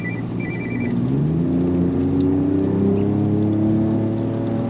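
A deep, steady engine rumble from the exhaust of a 2022 Ford Ranger Raptor pickup truck in sport mode, droning and slowly rising in pitch as it accelerates.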